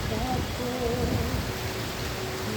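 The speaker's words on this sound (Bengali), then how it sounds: "আবার বৃষ্টি শুরু হয়েছে" Steady rain falls in a continuous wash of patter during a day of heavy downpours and flooding in Sylhet, with faint voices murmuring in the background.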